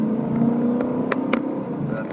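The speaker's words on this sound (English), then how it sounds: "the sound of the exhaust." A BMW M3 fitted with an OEM exhaust modification accelerates, heard from inside the cabin with the windows closed: a steady, droning engine tone with a few brief sharper ticks, and a voice partly over it.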